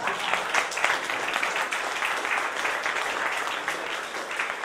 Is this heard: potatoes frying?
no